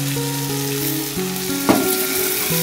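Chicken masala with coriander powder sautéing in a pan with a splash of water, a loud continuous frying hiss with one quick scrape of the spoon partway through.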